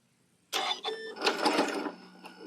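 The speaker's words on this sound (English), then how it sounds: "take a couple of back stitches" A sewing machine runs a couple of quick back stitches through fabric while a table runner is being made. After a quiet start, close whirring bursts of stitching begin, with short stops and restarts.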